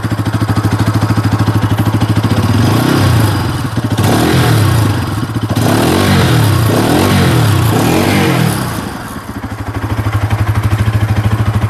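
A Bajaj Pulsar NS 200 motorcycle with a low-slung underbelly silencer idles with a steady, loud exhaust firing pulse, briefly revving up and settling back over about twelve seconds, close and with no talk.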